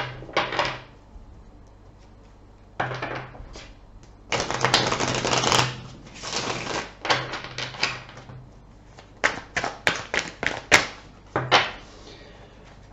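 Tarot cards being shuffled by hand, with irregular bursts of crisp papery riffling and clattering separated by quiet pauses, close and with no voices.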